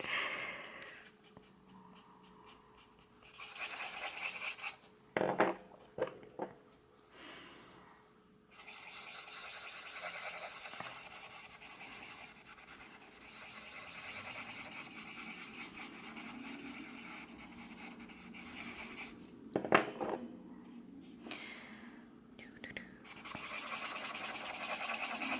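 Alcohol markers color a galaxy background on paper with soft, close scratchy rubbing strokes, broken by short pauses and a few sharper taps, quiet throughout with no voices.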